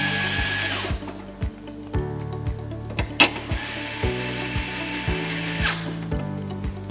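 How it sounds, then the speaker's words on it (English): A hand ratchet or driver tightens screws on a mobile iPad photo booth, with a steady series of close, sharp clicking ratchet strokes in an irregular rhythm and no talk. "Now I'm tightening."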